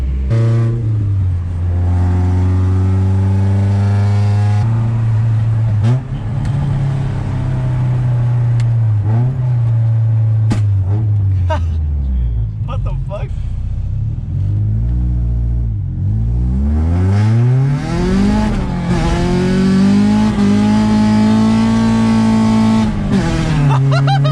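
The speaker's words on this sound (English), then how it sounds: "We're gonna take her out for a little spinaroo." Honda Integra engine revving loudly and pulling away, rising and falling through the gears with strong steady drone, a brief lull near the middle before climbing again; no speech.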